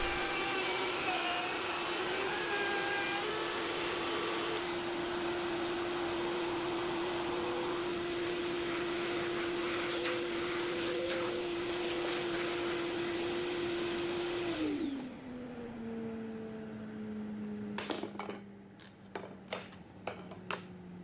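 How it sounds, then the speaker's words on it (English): A wood router cutting along a template for a DIY joinery sled, a loud steady high-pitched motor whine with a constant tonal hum that winds down, followed by a few sharp knocks and clatters. "it's still the same process for routing this out"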